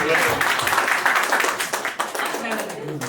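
Audience members at a Marathi talent show clap in a brief burst that tapers off, close and scattered rather than dense, mixed with people talking over and after it.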